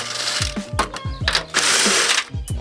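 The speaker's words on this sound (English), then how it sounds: "So right now I'm going to loosen up these 3 since I already loosened up the other ones down there." A hand ratchet works the strut bolts on a Nissan 350Z with quick bursts of clicking, broken by short pauses between strokes, close and fairly loud.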